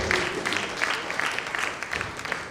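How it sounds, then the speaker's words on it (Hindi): A crowd at an award ceremony claps continuously at a moderate level, the applause dense and even from start to finish. "एक बार जोरदार तालियां"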